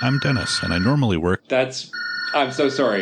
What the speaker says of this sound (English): You guys probably heard that, right? That's my phone.